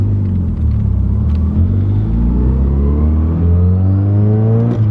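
A Nissan Silvia S15 accelerates from inside the cabin, its engine note climbing steadily in pitch through a single long pull with a deep rumble underneath, loud and close with no talking.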